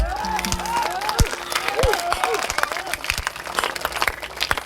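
Hand claps ring out amid singing and talk at a devotional gathering in a festive pavilion, with scattered irregular claps under voices and music rather than sustained applause.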